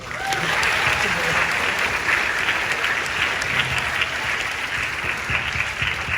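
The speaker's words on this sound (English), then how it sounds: "Please give him a big round of applause." Steady audience applause at an investment banking career forum, a full continuous wash of clapping from a seated crowd, with some faint voices mixed in.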